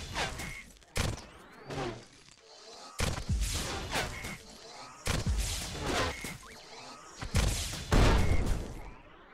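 Explosions and gunfire from the vehicle-combat video game Phantom, as a robot is shot and blows up: several loud, sharp bursts in quick succession with crashing, whooshing debris, close and dominant with no talk.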